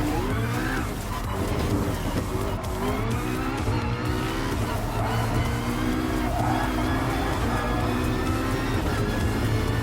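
Race cars in the video game Gran Turismo Sport roar past with rising and falling engine pitch, one car after another, with tires squealing now and then, all loud and continuous.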